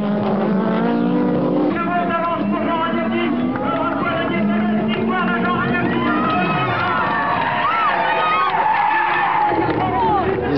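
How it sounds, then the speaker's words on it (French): A Renault 21 Turbo 4x4 race car drives hard on a circuit, its engine revving and shifting loudly and continuously, with tyre squeal, a crowd in the background and a voice talking over it. "Jean Ragnotti se retrouve donc au volant d'une Renault 21 Turbo 4x4 et sur circuit"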